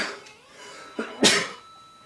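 One sharp, close sneeze bursts out after a brief inhaled build-up, with a faint breathy catch just before it and quiet room tone around it.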